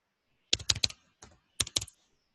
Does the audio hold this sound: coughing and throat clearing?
no